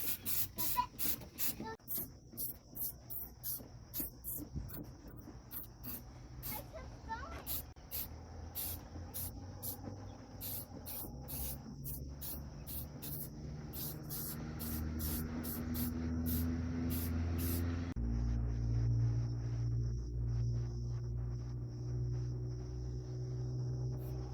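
A spray can lays black paint onto a suspension part in short repeated bursts of close hiss, several quick sprays in a row, then a lower steady hum takes over in the second half while spraying stops.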